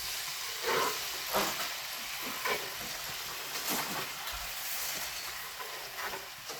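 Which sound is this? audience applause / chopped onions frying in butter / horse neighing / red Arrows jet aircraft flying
chopped onions frying in butter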